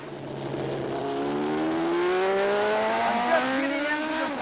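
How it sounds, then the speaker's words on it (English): Superbike racing motorcycle accelerating hard on a race track toward 150 mph, a loud, close engine whine whose pitch climbs steadily through the gears over a continuous roar. "Cooley and Spencer through turn 2 and accelerating to 150 miles per hour."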